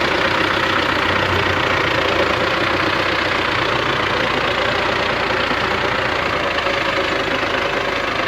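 A Belarus tractor engine idles steadily in a farm field, giving a loud, even diesel rumble with a knocking texture that runs unbroken and close throughout.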